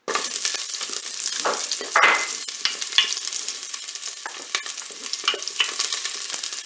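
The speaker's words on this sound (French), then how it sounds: "Là, je vais mettre mes oignons bien dans la cuve." Chopped onions sizzle steadily as they fry in the preheated pot of a Cookeo multicooker, with a few sharp crackles and soft scraping as they are stirred, close and alone.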